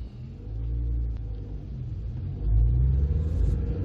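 A 1998 Ford Puma 1.7 engine rumbles steadily at idle, then rises in a brief rev, deep and close.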